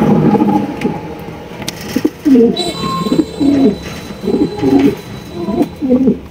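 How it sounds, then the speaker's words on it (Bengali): Blue bar fillback pigeons cooing close by, a series of throaty rolling coos in a steady repeating rhythm, fairly loud. "এটা হচ্ছে আপনার ব্লু বার ফিলব্যাক কবুতর"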